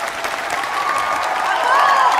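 Steady, dense applause from a theatre audience, fairly loud and building slightly, with voices and a few whistles or cheers mixed into the crowd noise.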